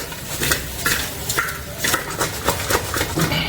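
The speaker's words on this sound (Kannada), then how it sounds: "ಈಗ ಚೆನ್ನಾಗಿ ಮಿಕ್ಸ್ ಮಾಡಿ ಬೇಯಿಸ್ಕೊಳ್ತೀನಿ. ಇದು ಆಯಿಲಲ್ಲೇ ಫ್ರೈ ಆಗಬೇಕು." A spoon stirs a spiced mixture with turmeric and rock salt frying in oil in a pan, scraping in a steady rhythm of strokes roughly every half second over a soft sizzle.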